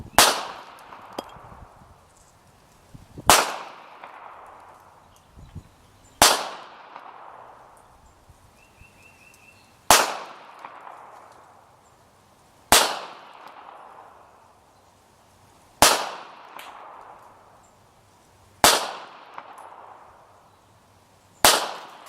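Eight sharp pistol shots from a Beretta 92SB fired at 10 yards, evenly spaced about three seconds apart, each a loud crack followed by a short ringing decay outdoors.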